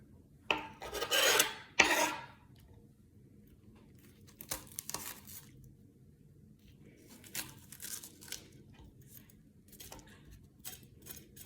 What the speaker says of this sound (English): This is the expert way to de-seed a jalapeno.